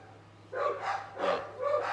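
Several dogs bark and yip in short bursts, fairly close, with a steady low hum underneath and no talk.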